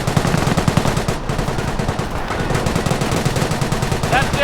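Rapid machine gun fire from a World War II battle in the video game Company of Heroes rattles on continuously in fast bursts, loud and close, with faint battle noise around it.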